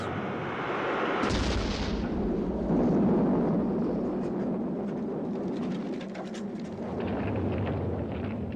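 Bombs from American B-52 raids exploding over Hanoi: a dense, continuous roar of overlapping blasts and rumbling, loud and sustained with a sharp onset, no voices present.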